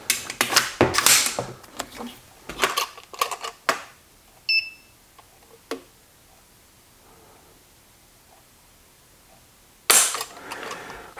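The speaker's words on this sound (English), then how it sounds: "I'm going to pull the trigger just a couple more times" Trigger pulls on a B&T APC9 SD submachine gun at the range, heard as a scattered series of sharp mechanical clicks and snaps in the first few seconds, a couple of isolated clicks after, then a final loud click burst near the end.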